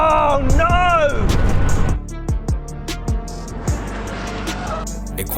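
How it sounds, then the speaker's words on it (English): A McMurtry electric race car streaks past on a track with a high jet-like whine that sweeps down in pitch, followed by several quick whooshing passes and a steady background roar. "even when it passes by, it sounds like a fighter jet"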